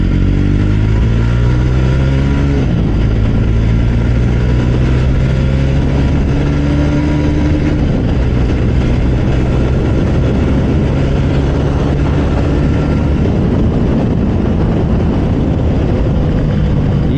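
A Jawa 42 2.1 motorcycle rides along at close range, its engine loud and continuous with gear changes and shifting revs throughout.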